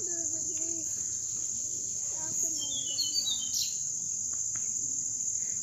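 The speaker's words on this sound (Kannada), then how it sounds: "ಏನು ಪಕ್ಷಿಗಳ ಸೌಂಡ್ ಕೇಳ್ತಾ ಇರ್ಬೋದು ನೀವು ಪಕ್ಷಿಗಳ ಸೌಂಡು" Birds chirp and tweet intermittently against a constant, high-pitched buzz of crickets at a resort in Bandipur, with faint voices in the distance.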